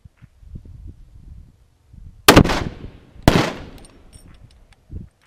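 A .375 CheyTac rifle at an ultra-long-range match fires two sharp, loud reports about a second apart, each trailing into a ringing echo, with faint low murmurs and handling noise before and after.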